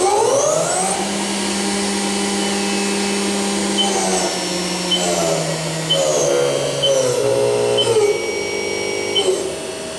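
A Haas VF-3SS CNC vertical mill spindle runs up through its speed range with a loud, steady whine whose pitch shifts in stages, close and alone without talk.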